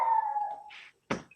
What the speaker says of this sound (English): who's killing the dog in the background?